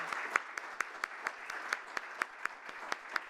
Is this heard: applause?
yes